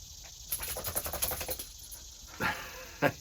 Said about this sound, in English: hear my dog shaking in the background. He's ready to go inside.